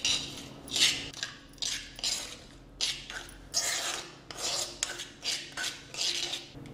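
Homemade hair oil is strained from a pot into another bowl at home: a series of quiet, rhythmic scraping and rasping strokes, roughly one every half second, with metal-on-metal clinks and no talk.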